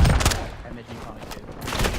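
Incoming gunfire in a tactical shooter video game, with sharp cracks clustered at the start and end of the clip and a muffled rumble between. A voice talks over part of it.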